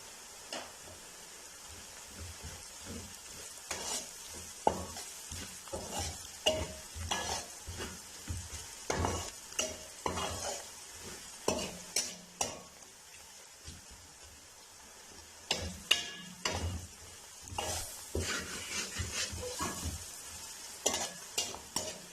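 Red chili powder, turmeric and salt fry in a pan for a fish masala curry, with a steady soft sizzle broken by repeated scraping and stirring clinks of a utensil, moderately close, no talking.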